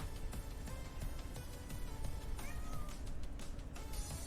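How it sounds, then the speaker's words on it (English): A house cat meows a few times indoors, soft and fairly close, with faint background noise in between. "I don't know if you can hear that meow."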